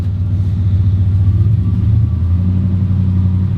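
A Nissan Micra reverses slowly along an icy home driveway, its engine a close, steady low rumble with slight revving throughout and no talking.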